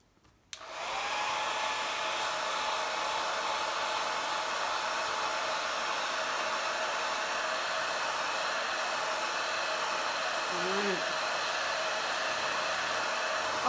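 Hair dryer blowing steadily to dry paint on a handmade Valentine's sign, starting abruptly and then holding a loud, constant whooshing roar close by.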